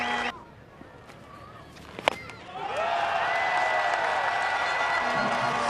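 Pakistan supporters applauding around the ground at an Ireland vs Pakistan one-day cricket international: quiet crowd murmur and a single knock at first, then a broad wash of applause swells and holds steady, spread wide and distant.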